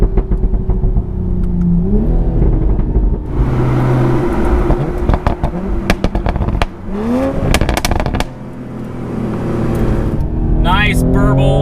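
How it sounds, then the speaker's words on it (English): A 2020 Toyota Supra's inline-six engine revs loudly and repeatedly, its pitch sweeping up and down, with exhaust burbles and crackling pops between pulls and as the revs settle near the end. "It has a definitively inline-six cylinder sound"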